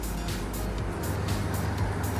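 Steady street traffic of cars and motorbikes passing on a Singapore road, a continuous moderate rumble with repeated swells as vehicles go by, no talking.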